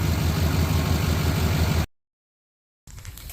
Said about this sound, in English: The truck's still running.